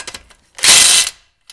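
A ratchet tightens a castle nut on a tie rod end of a 1992 Lincoln: a few faint clicks, then one loud, quick run of ratcheting, and a single soft click after.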